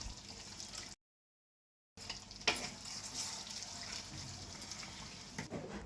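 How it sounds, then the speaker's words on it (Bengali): Milk poured over braised mutton in a pot, stirred with a quiet watery gush and soft sizzle, faint and close, broken by a second of dead silence before a scrape and continued stirring. "কষা মাংসের উপরে দুধ ঢেলে তা একটু নাড়িয়ে নেব"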